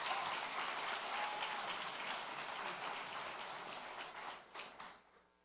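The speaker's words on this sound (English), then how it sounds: "let's give one last round of applause to the staff at Pleasant Valley" An audience at a high school senior awards night applauds the school staff, sustained dense clapping filling the room before tapering off and fading out at the end.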